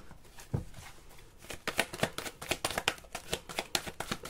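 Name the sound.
quick shuffle of tarot cards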